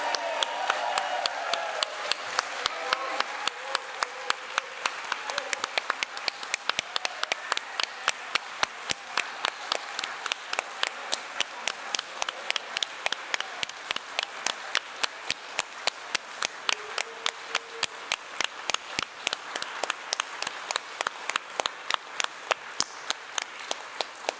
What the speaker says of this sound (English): So this is where I anticipated you all cheering for Sarah